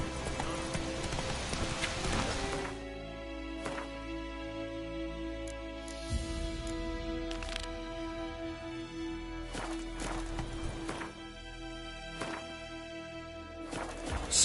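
A horse's hooves clip-clop steadily along in the video game The Witcher 3, a close, even trotting rhythm with sustained game music tones underneath.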